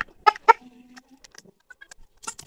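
Tiger-breed chickens, a rooster among hens, cluck in short, scattered bursts nearby, a few louder calls at the start and softer clucks after, with no talk.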